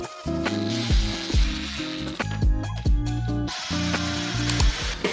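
Screws being driven into the side of a DIY entryway cabinet with a power driver, a run of short whirring, ratcheting bursts separated by brief pauses, close and fairly loud with no talk.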